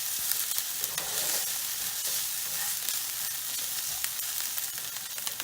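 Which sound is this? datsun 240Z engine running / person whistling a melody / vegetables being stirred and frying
vegetables being stirred and frying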